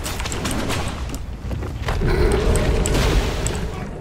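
A garbage bomb detonates in the SMITE video game, a booming blast that swells loud and sustained over a dense bed of game effects and chatter-free noise, with sharp clicks scattered throughout.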